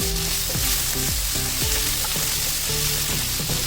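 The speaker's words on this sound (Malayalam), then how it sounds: "ഇതിലേക്ക് രണ്ട് തക്കാളി ചെറുതായി കട്ട് ചെയ്തത് ഇടാം" Chopped tomatoes sizzle steadily in a hot pan of onion masala for Kerala-style okra mappas, a loud continuous frying hiss with a stepping musical melody playing underneath and no talking.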